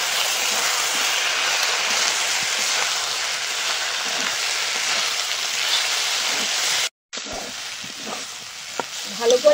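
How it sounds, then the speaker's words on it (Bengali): Potatoes frying with salt, turmeric and chili powder in a pan, a steady loud sizzle running throughout with a brief dropout near the end followed by scattered stirring clinks. "ভালো করে কষিয়ে নিয়েছি"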